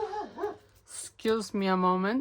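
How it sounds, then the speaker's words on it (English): A dog outside a window gives a few short barks and whining yelps, somewhat muffled, while a person speaks briefly nearby. "sorry if you can hear my dog outside the window"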